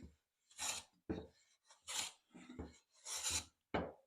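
Hand plane taking wispy shavings from wood, six or seven short, close rasping strokes separated by brief silences.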